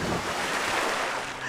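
Water splashes loudly and continuously at an outdoor Total Wipeout obstacle course, a dense rushing spray that fills the whole moment with no voices.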